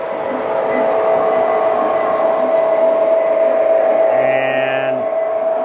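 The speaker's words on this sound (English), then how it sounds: "other train just came by" A model train rumbles past on its track with a steady mechanical hum and faint clatter, close and continuous, ending with a brief tonal horn-like sound.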